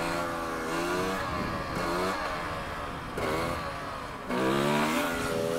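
A KTM 300 TPI two-stroke enduro motorcycle from 2020 ridden by someone in enduro boots: its engine surges in rough bursts and drops off in pulses under braking, a steady buzzing motor close by with no talk.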